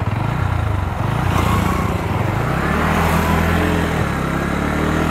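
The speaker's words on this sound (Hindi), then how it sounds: "बाइक को यहाँ से घुमाते हैं थोड़ा सा, वापस से चलते हैं पीछे" A Bajaj Pulsar NS 125 motorcycle runs loudly and close throughout, its engine holding a steady mid-pitched drone with shifting revs as it is turned around and ridden.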